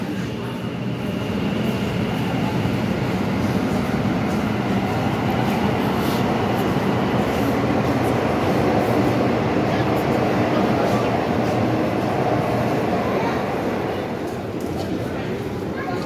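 A metro train rumbles steadily inside the underground Mahakaran station, a loud, continuous roar holding for the whole stretch with faint rail clatter and no clear speech.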